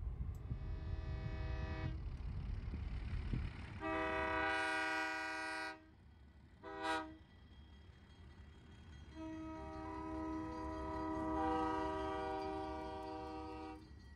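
A train arriving at Silverton station sounds its horn in several loud, sustained blasts, one long, one short and a final drawn-out one, over a low rumble of the moving cars.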